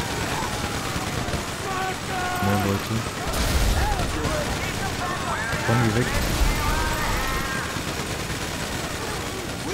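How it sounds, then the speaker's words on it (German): Rapid gunfire from a shootout with police in the video game GTA 5, sharp bursts over a steady noisy bed, with people talking briefly in German partway through. "Wir knallen jetzt einfach mal die Bullen ab."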